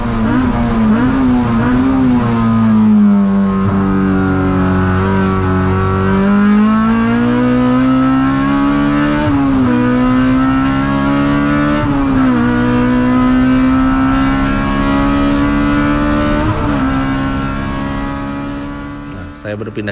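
Loud race car engine in an endurance race at Sepang, holding high revs with rising and falling pitch as it shifts gears, close and continuous throughout.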